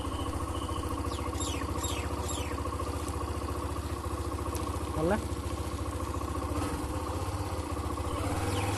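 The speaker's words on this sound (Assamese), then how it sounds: "বাইকখনৰ চাউণ্ডটো কিবা এটা ভাল লাগে মোৰ, স্মুথ হয় বাইকখনৰ চাউণ্ডটো।" A motorcycle engine runs steadily at a low, even idle throughout, close by, with a brief rising note midway and some chirping high in the background.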